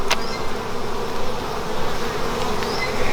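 Honey bees buzz steadily at close range during an open hive inspection, a dense continuous drone with a few sharper passes as individual bees fly near.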